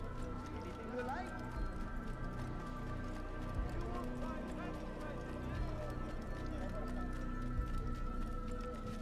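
A horse in the Assassin's Creed video game gallops with steady rhythmic clip-clop hoofbeats throughout, moderately close, while someone talks over it.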